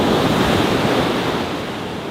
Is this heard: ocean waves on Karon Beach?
yes